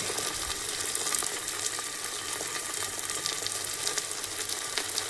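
Tomato and turmeric sizzling in a pan of browned onions for spicy dal, a steady close hiss and crackle of frying that stays even throughout.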